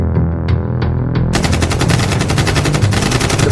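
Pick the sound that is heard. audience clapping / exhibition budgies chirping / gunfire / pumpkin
gunfire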